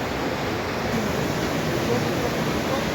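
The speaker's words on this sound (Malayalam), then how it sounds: "ആൽമാട്ടിൽ വന്നിട്ട് നല്ല കുത്തൊഴുക്കുള്ള ഒരു പുഴ കണ്ടത് ഇപ്പോഴാണ്" A fast-flowing mountain river near Alma Arasan waterfall in Almaty, Kazakhstan, makes a dense, steady rushing roar, close and unbroken for the whole stretch.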